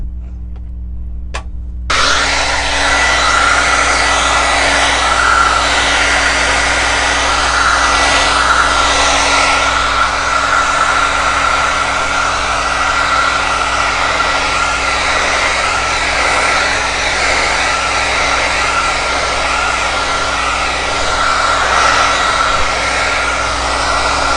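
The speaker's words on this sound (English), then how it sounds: "now I'm going to go ahead and dry it with my hair dryer" A hair dryer switches on and blows loudly and steadily, a continuous whooshing roar with a high whine, running alone for over twenty seconds.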